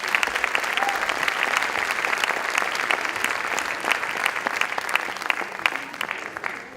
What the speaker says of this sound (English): So please, a round of applause for Divya.